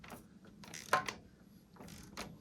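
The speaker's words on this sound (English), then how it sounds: "you just take an 8mm socket, put it in there, and then you can turn this" An 8mm socket turns the preload adjuster on a WP 6500 Pro suspension cartridge for a KTM 690 / Husqvarna 701 Enduro, giving a few faint, quick mechanical ratchet clicks in an otherwise quiet room.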